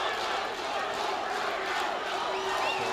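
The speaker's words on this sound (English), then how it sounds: "So we're going to get a lot of cheer from the Vanuatu side." A football crowd at an under-20 Vanuatu vs Fiji match cheers after a Vanuatu goal, a sustained, moderately distant roar of voices and shouts.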